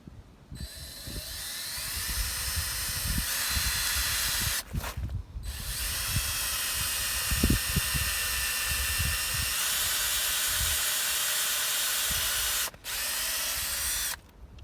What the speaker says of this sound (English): I'm going to drill in at a slight upward angle until I hit this tape.